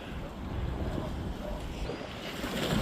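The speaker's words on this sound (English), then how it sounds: "One last look at the conditions out at sea. Choppy, windy, blowy, all those things." Wind buffets the microphone out at sea beside choppy waves during a paddleboarding session, a steady rushing roar with low rumble and no talk.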